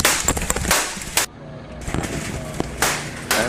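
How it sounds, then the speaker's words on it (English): Gunfire captured on a live internet stream during a shooting: sharp broadband bursts recur through the clip, loud and somewhat distant-sounding, with a short quiet gap in between and a noisy, echoing background. "that's the sound of the gunfire as it was happening"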